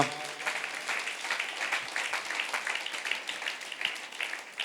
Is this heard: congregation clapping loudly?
yes